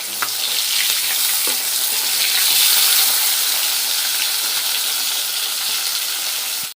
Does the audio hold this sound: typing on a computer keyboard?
no